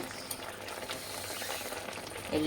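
Split green chilies fry in hot oil, a soft, continuous sizzle and crackle heard faintly and close throughout.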